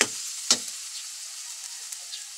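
Eggplant, hotdog and corned beef sauté in a pan with a steady hissing sizzle, broken near the start by a sharp utensil knock against the pan.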